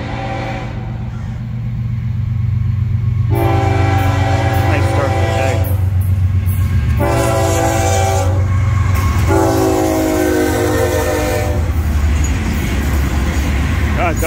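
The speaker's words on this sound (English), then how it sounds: "Got the northbound train coming out of New Smyrna Beach Yard." A northbound Florida East Coast Railway freight train leaving New Smyrna Beach Yard rumbles past loudly and close, with several long horn blasts sounding over the heavy rolling roar of the wagons.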